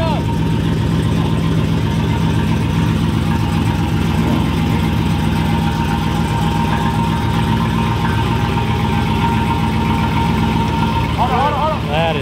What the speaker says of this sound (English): Like a Corvette engine.